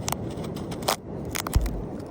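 Crab shells are crunched by hand in a few sharp, close crackling snaps with scraping in between, against a quiet background.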